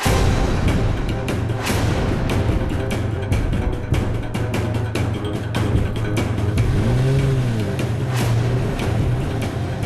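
A car drives along with a loud, steady engine drone and road rumble heard close from inside, with a slight rise and fall in pitch near the end and no talk.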